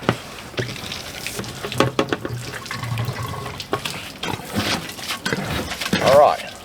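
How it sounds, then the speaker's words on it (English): Water runs from a motorhome kitchen faucet into a sink in fluctuating splashes and gushes, close by, with intermittent clunks and a voice talking at moments. "I opened that kitchen faucet"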